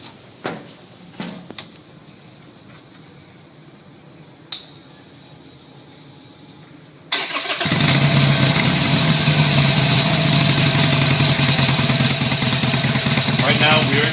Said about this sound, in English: So let's try it one time with the motorcycle on.